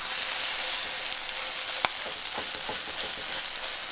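A cheese-topped tortilla crisps in hot oil for quesabirria, giving a steady bright sizzle with one sharp tap of a utensil and a few softer knocks after it.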